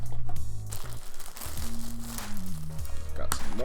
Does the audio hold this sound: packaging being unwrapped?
yes